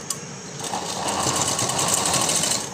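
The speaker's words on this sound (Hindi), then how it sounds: "अब हम डबल सिलाई लगा लेंगे।" Sewing machine running steadily as it stitches a double seam on the shoulder of a floral frock, a close, continuous whirring hum lasting a few seconds without talk.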